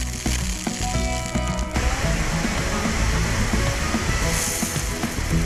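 Lawn sprinkler heads spraying water across a front lawn irrigation zone, a steady loud hissing wash of spray close by, continuous throughout with no talking.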